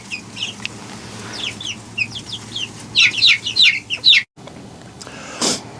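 Young chicks peep in a pen in a series of high, close chirps that grow busier midway, with a low steady background hum and a brief rustle near the end.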